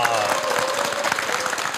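Audience applause for a jazz festival named the nation's best festival, a steady, dense wash of clapping lasting under two seconds, fairly close and even in level.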